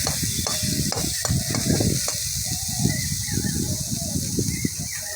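Vegetables stirred in a hot frying pan for a sour green mango and fish dish, a steady hiss of sizzling under repeated scraping and stirring strokes, close and continuous.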